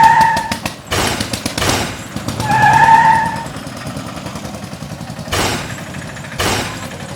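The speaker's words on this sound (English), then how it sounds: "After some time, there is a coming truck. Braking and jump," Heavy vehicles crossing a road speed bump, including a truck braking and bouncing over it: loud engine roar and tyre noise, with sharp broadband thumps and clatter as wheels strike the bump, repeated several times, close by.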